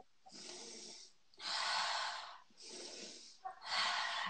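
Costal (rib) breathing in a hypopressive exercise session: four close, airy breaths alternating between in and out in a steady, slow rhythm, heard alone.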